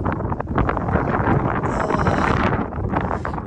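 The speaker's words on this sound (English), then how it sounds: "I'm trying to keep the wind off." Steady, loud wind buffets the microphone outdoors in a cemetery, a continuous roaring rush with no break and no voices.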